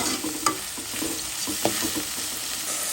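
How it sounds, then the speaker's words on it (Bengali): Whole bay leaf, clove, cardamom and cinnamon fry in hot oil, giving a steady close sizzle with a couple of sharp utensil knocks and stirring scrapes, no voices. "পাতা, লবঙ্গ, এলাচ, দারচিনি। এখন একটু বেজে নেব।"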